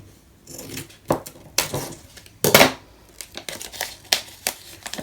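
Scissors snipping through craft tape on a paper mini album, a few crisp, close cuts with rustling and handling noises between them.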